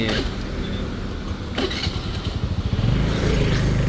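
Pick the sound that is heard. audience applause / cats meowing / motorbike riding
motorbike riding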